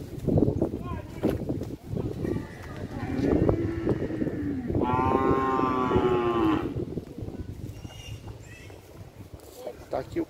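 A cow moos loudly in a long drawn-out call at an outdoor cattle fair in São Benedito, Ceará, with people talking and bustle around it.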